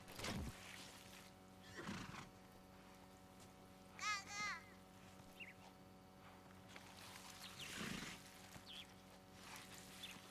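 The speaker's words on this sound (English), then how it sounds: "you hear the horse, right?" A horse in a video game whinnies once in the middle, a short wavering neigh over a steady game soundtrack, with bursts of talking before and after.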